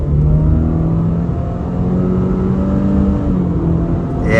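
A 2024 Subaru Impreza RS accelerating hard in sport mode, engine drone rising steadily in pitch, heard loud from inside the cabin with no talk.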